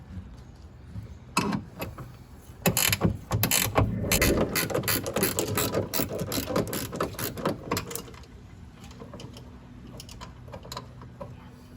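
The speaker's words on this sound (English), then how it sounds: "We have a ratchet with a socket. Obviously, it'll be a lot easier than the wrench." A ratchet and socket tightening a bolt during a wickerbill install on a 2015 Dodge Challenger. Rapid close clicking comes in dense bursts, loudest in the middle, then fades to quieter ticks.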